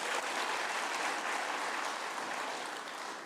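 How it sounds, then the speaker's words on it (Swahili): At a public address, a crowd keeps up steady, dense applause that is fairly quiet and distant and tapers off slightly toward the end. "Mujipigie makofi tena"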